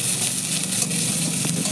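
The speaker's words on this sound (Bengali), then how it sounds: "আলু দিয়ে ভাজার পর" Potatoes fry with chopped onion, garlic and green chili in a pan over medium-low flame, giving a steady, close sizzle with light stirring throughout and no talking.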